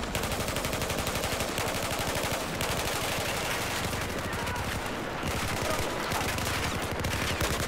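Battlefield 4 campaign combat with rapid automatic gunfire rattling in dense bursts, loud and close with a few brief gaps, sharp machine-gun volleys overlapping continuously.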